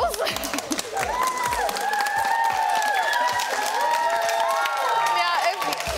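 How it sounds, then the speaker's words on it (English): An audience claps and cheers for dogs modelling outfits at a televised dog fashion parade, with steady, dense applause and crowd noise running throughout alongside tonal background sound. "Please give a big round of applause to all our models."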